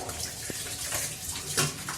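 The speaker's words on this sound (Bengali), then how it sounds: "এই বোতলগুলো জল ভরে নেবো।" Tap water running into bottles in a home kitchen, a steady splashing, gurgling stream with small bubbling bursts, close and fairly quiet, with no talk.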